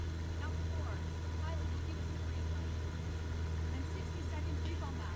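Steady droning hum of an airplane engine throttled back to 2400 RPM in Microsoft Flight Simulator 2024, constant and even throughout with no change in pitch.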